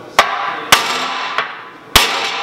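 Hammer strikes on a wooden block during a suspension bushing install on a Nissan 240SX: four sharp, loud blows at an uneven pace, close by and alone.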